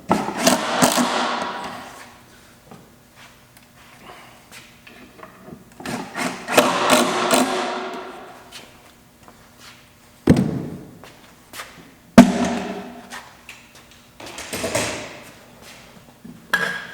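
Screws driven into wooden cabinet gable panels during galley and storage assembly, heard as bursts of whirring drill work with sharp taps and thuds between them, close and moderately loud.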